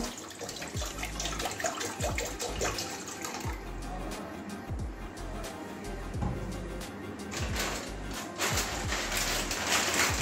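Water pours into a metal wok on a lit gas stove in a steady splashing, trickling stream for several seconds, close, over a constant burner hiss with faint clinks.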